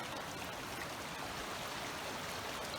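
Water in Harper Creek, Wilson Creek Wilderness Area, flows as a steady, even rush and gurgle, moderately near and unbroken, with no talking.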